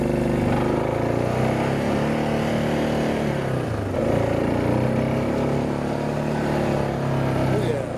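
A vehicle on bald tires pushes through rough ground in full drive, its engine droning loud and steady at close range with a brief dip and recovery in revs midway through.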